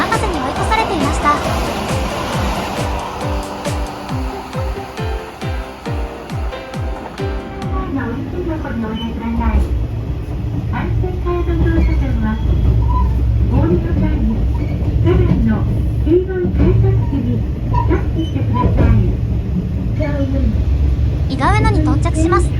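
A JR Kansai Main Line local train runs at an unhurried pace, with a steady close rumble of wheels and engine. Early on, rhythmic rail clatter speeds up, and a voice narrates over the sound.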